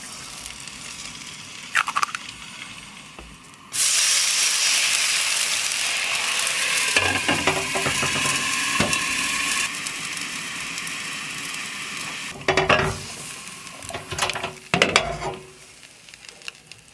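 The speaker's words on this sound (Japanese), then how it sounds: "ちょっと目玉焼き焼いていきます" An egg frying sunny-side up in a pan gives a steady loud sizzle that starts abruptly and runs for several seconds, with clicks and scrapes of cookware near the end.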